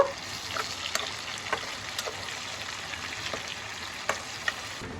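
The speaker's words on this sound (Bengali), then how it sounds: "দিয়ে পেঁয়াজটাকে একটুখানি হালকা করে গোল্ডেন ব্রাউন করে ভেজে নেব" Onions sizzle and fry steadily in a hot pan, with a constant crackling hiss and occasional soft stirring clicks.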